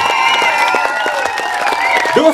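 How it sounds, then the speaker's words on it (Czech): Audience applause and cheering for the Duofatale show by Bohdana and Pavel Stuchlík, steady crowd clapping blended with background music and voices throughout. "Tak to chce opravdu velký potlesk!"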